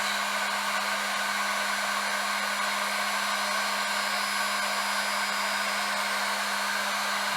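A hair dryer blows steadily on a 2023 Honda Grom body panel to soften a decal's adhesive, a constant close whooshing hum with a low motor tone and no speech.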